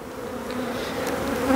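Honeybees droning from an opened hive during an inspection of brood and honey-store frames, a steady close buzz that swells slightly toward the end, with no voices.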